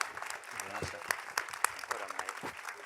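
Audience applause at a documentary premiere Q&A, a steady round of clapping with some louder individual claps standing out, joined by a few voices in the crowd.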